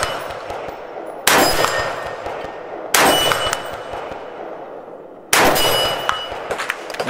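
Three rifle shots at a steel target 100 yards downrange on an outdoor range, each a sharp crack followed by a ringing metallic clang, spaced a couple of seconds apart, with a quiet hiss between them.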